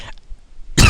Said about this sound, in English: Oh, excuse me, a little cough.